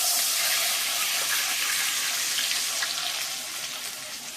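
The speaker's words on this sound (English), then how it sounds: "I'm going to add in my water so I can kind of break up some of the delicious bits here, and it will sizzle." Water poured into a hot pan of meat drippings for Salisbury steak gravy, a loud, close, broadband sizzle and hiss that gradually eases off, with no talk.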